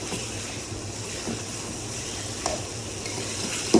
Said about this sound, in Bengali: এর মধ্যে দিয়ে দিচ্ছি মাছটাকে আমি ভালোভাবে কষিয়ে নেব।